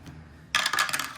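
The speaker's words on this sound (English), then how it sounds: "So let's go ahead and get our D4 dice out." Plastic D4 dice clatter onto a hard surface for a shut-the-box game, a bright burst of rattling clicks that settles after about half a second, with no talk.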